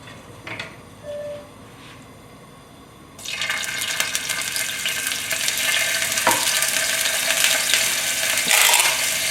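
Chopped ginger and garlic drop into hot sesame oil in a wok for a celery and red pepper stir-fry. After a quiet start, a loud, dense sizzle bursts in and crackles steadily, close up, with occasional utensil clinks.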